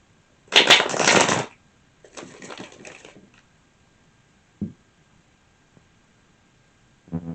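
Two bursts of tarot card shuffling, a loud riffle followed by a softer, longer one, then a couple of faint taps and a brief rustle at the end.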